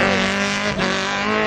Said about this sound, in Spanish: buen derrape de Sumari